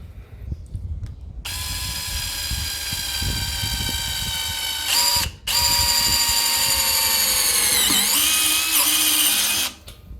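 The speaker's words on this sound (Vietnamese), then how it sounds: "Bây giờ mình sẽ test thử cái khoan kia cho bạn coi nha." A fake DeWalt brushless cordless drill drives a roofing screw. Its loud, close motor whine runs in long bursts with a brief pause, and the pitch dips and strains as the screw seats near the end.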